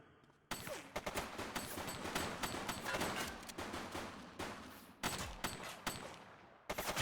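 Rapid bursts of gunfire during a video game police chase, loud and continuous volleys of overlapping shots with brief gaps before sharp new bursts.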